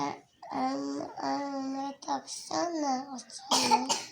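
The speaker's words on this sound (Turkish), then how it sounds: "Ama öksürüyorsun." A child coughs several times, the short harsh bursts falling between stretches of a young child's speech and babbling, close and fairly clear.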